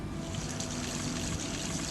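Water splashing from a hand-pumped sprayer onto potted plants, a continuous trickling pour at close range with no talking.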